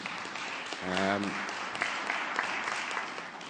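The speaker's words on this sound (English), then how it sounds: "I'd like to propose a round of applause for the organizers of this event" An audience at a regional development conference applauds the event organizers, a steady wash of clapping that carries on after a brief voiced sound near the start.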